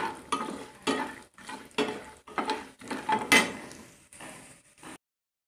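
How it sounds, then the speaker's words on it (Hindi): Peanuts with a pinch of asafoetida are stirred in a pan, giving a series of near, clattering scrapes and knocks of spoon on metal in an uneven rhythm, about eight strokes, with no talk. "पीनट्स और दो मिनट के लिए अब हम इसे फ्राई करेंगे"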